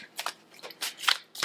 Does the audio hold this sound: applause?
no